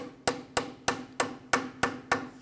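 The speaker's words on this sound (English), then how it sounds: "use my hammer and just kind of give this a few taps" Seven sharp metallic hammer taps on the front center tie rod adjusting sleeve of a Jeep Grand Cherokee, in an even, steady rhythm, close up and clear with no talking.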